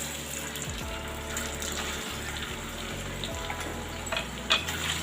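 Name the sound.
potatoes frying in a pan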